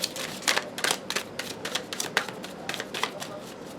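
Tarot cards are shuffled close up in a quick series of crisp riffling bursts and flicks over a few seconds. The level is fairly soft and no one speaks.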